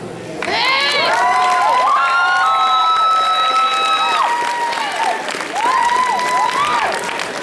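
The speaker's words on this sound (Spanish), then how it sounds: "Aplausos, por favor, y paso frente a Javier Cervantes, Watchman." A crowd at a male cosplay contest at Expo Comic Ichiban 2011 cheers loudly, with high shrieks and shouts over continuous applause, sustained for the whole stretch after a brief quiet start.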